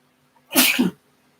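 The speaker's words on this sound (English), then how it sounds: "You saw an actual sneeze." A single sharp sneeze bursts out close by, brief and loud, with quiet stillness before and after.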